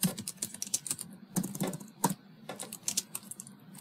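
Java code is typed on a computer keyboard in quick uneven runs of close, crisp key taps with short pauses between bursts, no talking.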